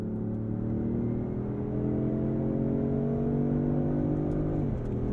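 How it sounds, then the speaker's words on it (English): A 2023 Range Rover Sport's inline-six engine accelerates, heard from inside the cabin as a loud, steady rising drone, then a quick drop in pitch at a shift near the end. "I don't mind the sound of that inline six"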